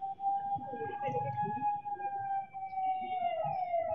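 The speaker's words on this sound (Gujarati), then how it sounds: "એમ્બ્યુલન્સ એક જે છે તે અટવાઈ છે" An ambulance siren holds a long steady wail, heard from a distance while the ambulance is stuck in a traffic jam during heavy rain with thunder in Alkapuri, Vadodara, with voices talking over it.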